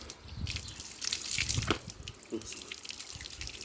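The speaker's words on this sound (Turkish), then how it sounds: "Kafanı iyice durulayalım dur." Running water splashes and gurgles as a golden retriever is rinsed during a bath, with uneven spattering and a voice heard faintly alongside.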